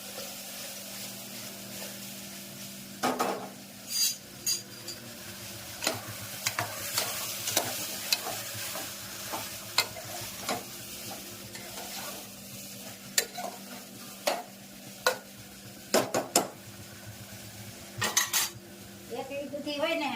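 A tempering of spices sizzles softly in a pan while a metal spoon stirs and scrapes it, giving repeated sharp clinks and knocks over a constant low hiss at close range.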